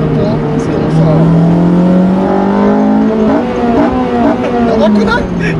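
A Honda Civic Type R FD2 with an aftermarket air intake and catalytic converter revs loudly and close, its engine note rising and falling in sustained sweeps while people talk over it.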